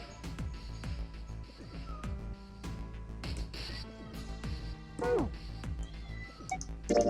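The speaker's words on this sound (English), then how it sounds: "Sorry about my cat and his noisy ways." A pet cat meows repeatedly and insistently indoors, a string of drawn-out cries with rising and falling pitch, close by, mixed with a person's voice during video game play.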